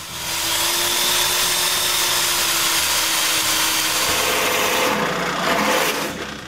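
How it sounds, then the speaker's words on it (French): A power tool chamfers both faces of a wooden snowman hat, a loud sustained whine and grind running steadily, its pitch dropping partway through as the cut bites into the wood before the motor trails off. "Je chambre les deux faces du chapeau"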